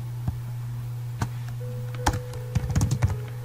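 Keys clack on a computer keyboard while someone types a Python program. A few isolated keystrokes are followed by a quick cluster of taps, all over a steady low electrical hum.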